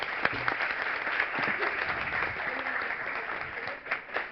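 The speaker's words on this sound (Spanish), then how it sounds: "Un fuerte aplauso para ella." An audience applauds a speaker at a talk on the fiery end of Earth and the fate of the Solar System: dense, steady clapping from a roomful of people, close and continuous throughout, with no speech over it.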